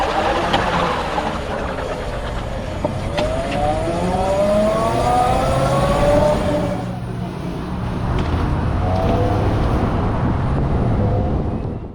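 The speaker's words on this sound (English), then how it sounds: "No noise, just a bit of an electric whir." LiveWire One electric motorcycle riding, its motor giving a steady whir with rising and falling tones as it accelerates, heard over continuous wind and road noise.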